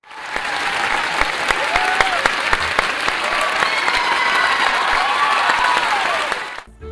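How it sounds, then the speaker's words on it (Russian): Applause sound effect played during a game stream, a dense burst of clapping from a crowd that holds steady and loud for several seconds before cutting off abruptly. "Аплодисменты!"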